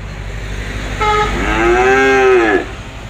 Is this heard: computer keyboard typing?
no